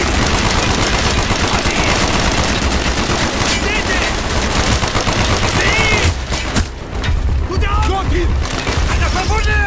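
Machine gun fire in the World War 2 video game Project Nova: dense, rapid bursts of automatic gunfire with explosions, mixed with shouted voices and a brief lull before the shooting resumes.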